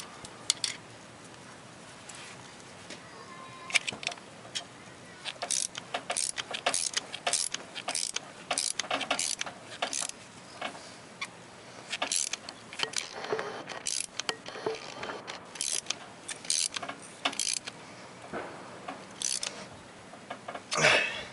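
A hand-cranked hydraulic brake line flaring tool is tightened down onto its flare bar, giving a steady run of small clicking, ratcheting and metallic ticks at close range in a quiet room.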